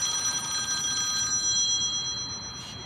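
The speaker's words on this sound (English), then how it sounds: "School bell." A bell rings at a camp, a steady bright metallic ringing held for a few seconds at moderate loudness before fading away.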